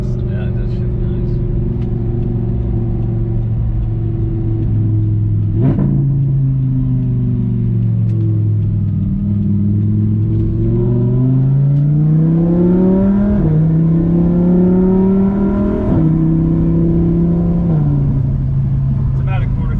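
Interior engine note of a 2015 Audi R8 V10 with a 7-speed dual-clutch gearbox, accelerating at about quarter throttle: a steady loud drone rising in pitch, with quick shifts dropping the revs several times before climbing again.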